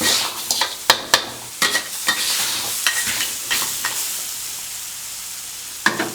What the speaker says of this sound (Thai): จะผัดแห้งๆเลยเพราะว่า ปูเราอ่ะลวกสุกแล้ว